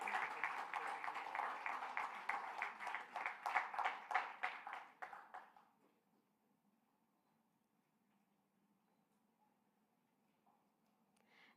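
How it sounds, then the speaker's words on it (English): An audience at a summit in Bengaluru applauds the participants with a burst of clapping that fades out after about five seconds, leaving near silence. "can we hear a huge round of applause for all the participants?"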